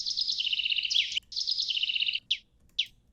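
A sampled bird call plays through a software sampler: two long bright runs of rapid chirping trills, then two short separate chirps, clear and close against a near-silent background.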